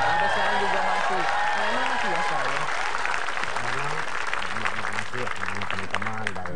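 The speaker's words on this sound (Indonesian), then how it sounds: "Tepuk tangan dulu." Studio audience at a comedy talk show applauding steadily throughout, with people talking over the clapping.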